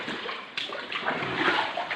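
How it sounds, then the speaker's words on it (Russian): Steady rushing floodwater pours continuously at close range through flooded streets and buildings in Astana during a downpour, a dense broadband wash with slight surges and no voices. "Вода вот бежит."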